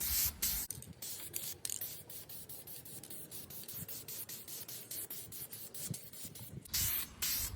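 Dupli Color vinyl and fabric spray paint hissing from an aerosol can onto a race seat, in a series of short bursts with brief gaps, soft and fairly close, with no talk.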